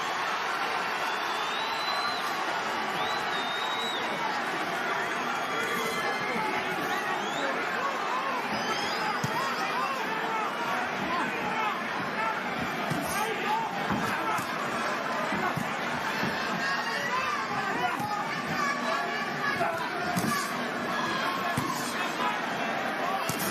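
A boxing crowd at the Ortiz Jr. versus Maurice Hooker fight keeps up a loud, constant roar and cheering for the whole stretch, with commentary running over it.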